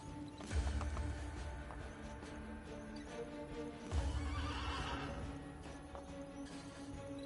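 In Assassin's Creed Brotherhood, a horse gives two loud whinnies with snorting breath and hooves clopping, close and clear over a low ambient game background.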